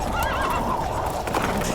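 A horse whinnies loudly in a wavering neigh, mixed with clip-clop hooves and a dense music backing, all close and full.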